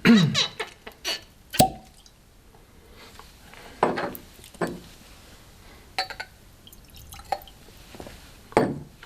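Still water is poured into a glass of cask-strength sherry-butt whisky. Scattered drips and small splashes land in the glass, with occasional glassy clinks and pauses between the sounds.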